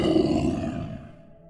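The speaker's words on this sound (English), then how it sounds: "An enormous roar made my eardrums ring." An enormous deep roar, loud and close, swelling briefly then fading out over about a second and a half, as a sound effect in a scary story.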